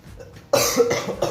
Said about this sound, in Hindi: खांसी चल रही है मुझे